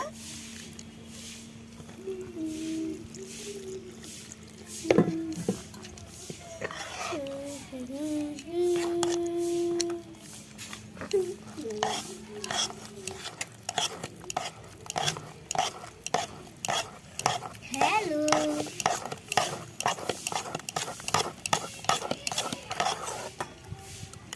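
Pitha batter with milk and water stirred in a bowl, a utensil scraping and clinking in quick repeated strokes that grow busier toward the end, with someone talking and a voice in between.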